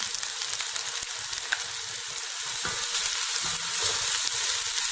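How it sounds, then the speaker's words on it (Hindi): Steady, crackling sizzle of garlic-ginger paste frying in a hot pan, continuous and close, growing slightly louder toward the end with no talking. "चंद सेकंड इसको मैं फ्राई करूंगी"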